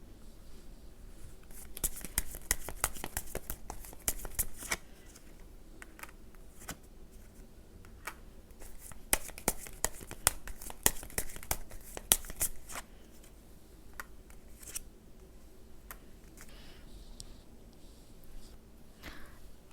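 Tarot cards shuffled by hand in a quiet room, a soft papery riffling that comes in bursts and then thins to a few light, scattered flicks and taps.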